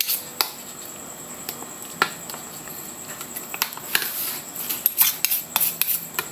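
Mashed sweet potato halaya being stirred in a pan: irregular close scrapes, clinks and soft squelches of the utensil against the metal, growing busier toward the end.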